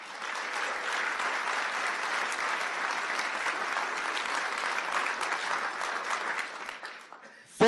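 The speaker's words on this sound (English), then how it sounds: "He deserves a round of applause, and he remains in our prayers." An audience at a town board meeting gives sustained, even applause that holds steady before tapering off at the end, with a sharp bump just as it stops.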